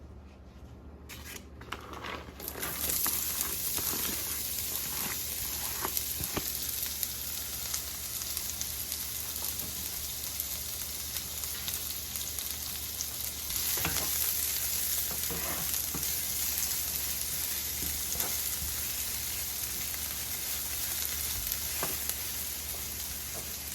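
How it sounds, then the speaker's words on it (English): Onion and garlic hit melted coconut oil over medium-low heat, bursting into a steady crackling sizzle that runs unbroken, with occasional stirring scrapes and no speech. "So the coconut oil is all melted and now I'm going to go in with my onion and my garlic."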